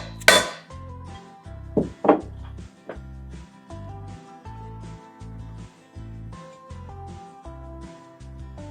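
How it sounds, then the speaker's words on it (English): T-nuts are hammered into a leather gun holster, with a few sharp metallic strikes early on, then a lighter tapping rhythm under a background melody. "rivet them down"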